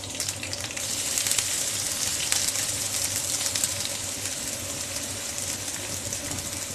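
Grated coconut sautéing in a hot pan for Kerala-style Erissery, a steady, fairly loud hiss and sizzle that swells slightly and holds for several seconds with no talking.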